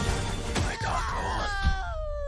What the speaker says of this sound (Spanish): ¿Ese grito lo pega Jill? Es un poco raro.